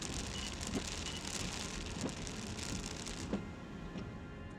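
Steady rain pours during a storm near a truck stop, a dense continuous hiss with a few faint crackles and soft thumps throughout.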